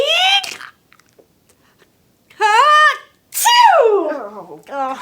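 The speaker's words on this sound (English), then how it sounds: "Achoo! oh, excuse me." A loud, drawn-out theatrical sneeze from a character voice, with voiced rising and falling tones in a couple of bursts separated by short silences, close and clear.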